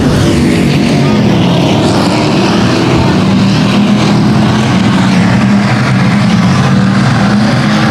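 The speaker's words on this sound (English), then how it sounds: "Now setting his sights on the 77X of Pretty as they raced it past the flag stand." Race cars roar past on the 281 Speedway track, a loud, continuous dense engine drone with a steady pitch band throughout, no breaks, under a faint commentator's voice.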